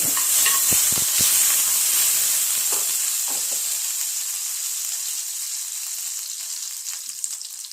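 Chunks of tikka sizzle steadily in melted butter in a hot pan, with a dense continuous hiss and a few soft stirring scrapes early on, gradually settling into an even fry.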